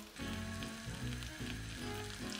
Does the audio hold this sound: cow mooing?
no